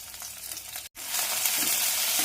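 Garlic cloves, green chillies and curry leaves fry in a hot kadai with a steady, close, loud sizzle, broken once by a brief silent gap before the sizzling resumes even stronger.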